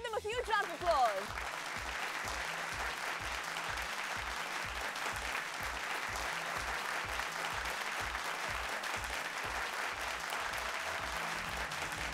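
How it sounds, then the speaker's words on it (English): A studio audience at a televised schools pentathlon contest between D. S. Senanayake College and Mahanama College gives the opposing team sustained, even applause for over ten seconds, over a soft rhythmic low thump, after a brief voice at the start. "Let's give them a huge round of applause."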